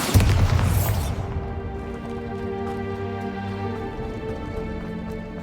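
A heavy Bombarda blasting spell explosion in Hogwarts Legacy opens with a loud booming burst, then a long ringing tonal tail with scattered debris patter fading over several seconds.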